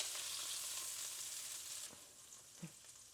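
Chicken frying in a pan, a steady close sizzle that holds throughout with a couple of small pops and light utensil touches near the end.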